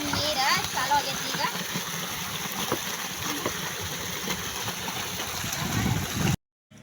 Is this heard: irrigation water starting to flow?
yes